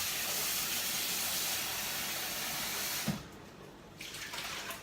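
Running water hisses steadily as cut potatoes are washed in a kitchen, then a brief splash and clatter break in, with the water rushing again afterwards.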